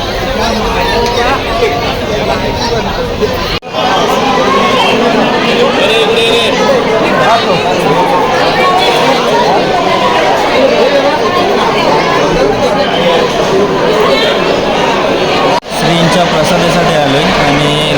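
Dense crowd chatter of pilgrims packed into the queue for prasad at Shirdi, a continuous loud babble of many voices with steady background bustle and no single voice standing out.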